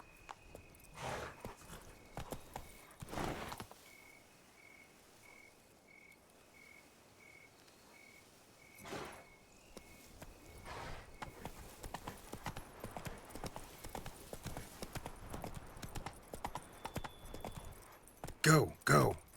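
Horse hooves galloping in The Witcher 3: Wild Hunt, Blood and Wine expansion, a steady rhythmic clip-clop running throughout over chirping insects and night ambience, with brief vocal bursts in places.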